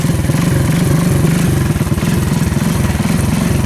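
A free Honda three-wheeler, an old ATV, runs after starting on the first pull, its small engine putting out a loud, steady, close-up chugging with a rapid rhythmic pulse and no voices.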